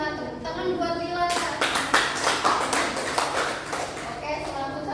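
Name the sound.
classroom students clapping for a classmate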